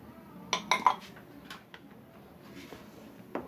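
Oats and other soup ingredients stirred in a pot, a spoon clinking against the metal a few times in quick succession near the start, then a lone later knock over a quiet kitchen background.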